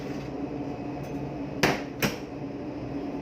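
An oven door closes on pork being cooked for lechon kawali, two sharp metallic clunks in quick succession over a low steady kitchen hum, close by with no talking.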